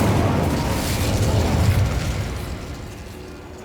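The fire spell Incendio cast in the video game Hogwarts Legacy, a loud burst of roaring flame that fades out over a few seconds.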